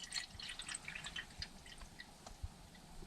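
Water trickles and drips into a small one-person camping pot on a winter bushcraft trip, a brief, faint, uneven splashing with scattered drops, heard alone without speech.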